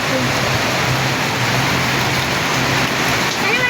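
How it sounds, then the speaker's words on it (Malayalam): Heavy rain pours down steadily with wind blowing, a loud, continuous rushing wash throughout. "നല്ല കാറ്റും മഴയാണ് കേട്ടോ"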